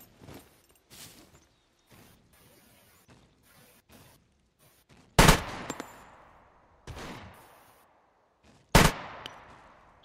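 Video game gunfire as zombies are shot, with a rapid burst early on and then two loud, sharp shots separated by a few seconds, each trailing off into a decaying echo, all without any talking.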